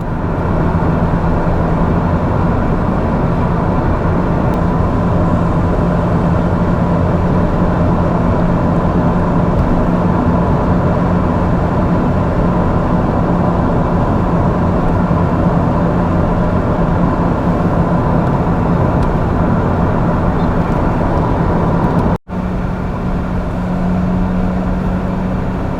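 Steady, loud road roar and engine drone of a car cruising on an Irish motorway, continuous throughout with a brief dropout near the end and no talking.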